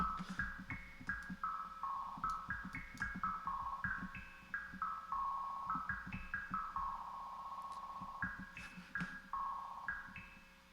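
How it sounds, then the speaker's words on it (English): A stepped synth melody sample of short repeating notes over a pulsing low beat in Ableton, washed in reverb that smears the tails together into a smooth, continuous haze. "So I want to smooth that out with some reverb."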